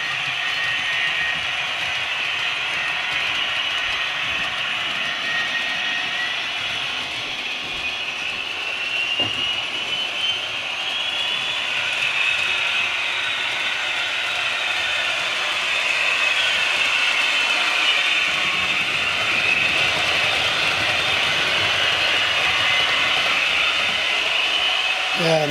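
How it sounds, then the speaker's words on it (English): Model railway Intercity 125 (HST Class 125) train running steadily around the track, a continuous whirring hum with faint clicking, constant and close throughout. "I'll just try that HST class 125. Sorry, Intercity 125. Send it round again."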